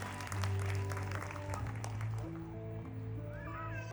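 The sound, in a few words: parents applauding at school event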